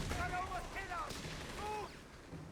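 Artillery fire rumbles through a Company of Heroes 3 match, with several blasts and booms under a commentator's ongoing talk.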